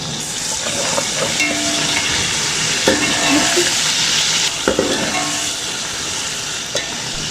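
Potatoes and eggplant frying in a pan with ginger garlic paste, a constant loud sizzle and hiss with occasional clinks and stirring scrapes, no voices.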